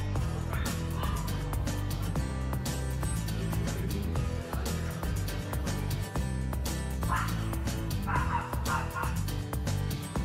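Dogs bark and yip at a dog playground set up for a pet carnival, the barking mixed into a busy, continuous background of crowd noise and music that stays loud throughout.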